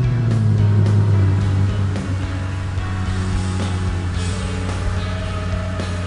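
A 2011 Lexus LFA engine idles loud and steady as the car is driven off its shipping frame, with a brief strong low tone at the start settling into a constant hum with faint clicks.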